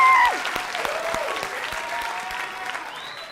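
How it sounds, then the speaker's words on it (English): A television late-night show audience claps and cheers loudly for a band. Dense applause starts strong, then carries on steadily and fades slightly, with faint whistles on top. "Give them a round of applause real quick."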